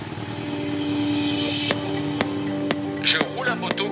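A KTM motorcycle engine revs up loudly and close, its rising drone broken by sharp gear-shift clicks as it accelerates away, with a voice briefly heard over it.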